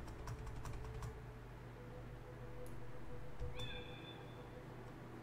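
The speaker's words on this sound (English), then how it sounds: "Press space to meow." A cartoon cat meows in the puzzle video game Timelie, a short rising tonal cry standing out near the end over steady background game music, with keyboard key taps heard earlier.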